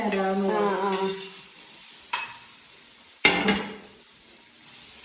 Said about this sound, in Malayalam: ജസ്റ്റ് ഒന്ന് വഴറ്റിയാൽ മതി